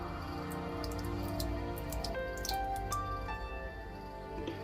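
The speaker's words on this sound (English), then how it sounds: "just fill up that water dish" Water poured into a dish inside a Goliath bird-eating spider enclosure, a close, steady trickling and splashing whose tone rises as the dish fills, with a few sharp drips.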